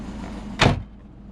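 A single short thunk of a Subaru car door, close and moderately loud, over a steady low idle hum from the big-turbo engine.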